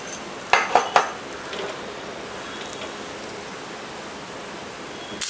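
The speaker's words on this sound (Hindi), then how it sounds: "पराठे को इस तरह से पलटते जाएंगे और प्रेस करते जाएंगे।" A paratha frying in oil on a pan is flipped and pressed, opening with three quick metallic clinks of a utensil against the pan, followed by a soft, steady hiss of oil that fades to a quiet background.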